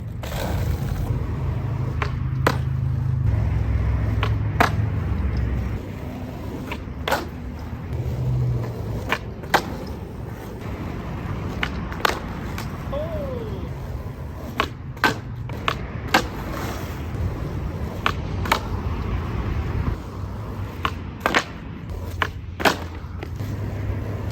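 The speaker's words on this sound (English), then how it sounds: "Do a couple regular flat ground tricks, because I don't like to try too hard to skate in my parking lot" Skateboard flat ground tricks in a parking lot: rolling wheels rumble on asphalt, broken by repeated sharp pops and clacking board landings spaced every few seconds over about twenty-four seconds, with no talk.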